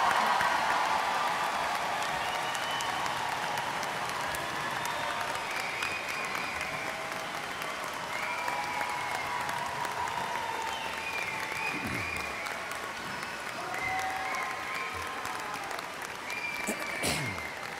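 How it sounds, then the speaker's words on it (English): A large university crowd applauds baccalaureate graduates of the College of Arts and Sciences at a commencement ceremony, with sustained, even clapping filling the hall throughout and faint voices and a few cheers mixed in. "Ladies and gentlemen, a round of applause for the baccalaureate graduates from the College of Arts and Sciences."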